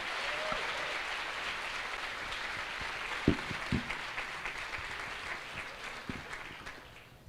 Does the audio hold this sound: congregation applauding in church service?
yes